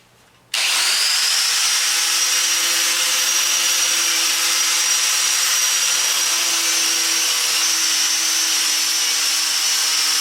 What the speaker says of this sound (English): It's still a lot of work to run that grinder, but pretty quick.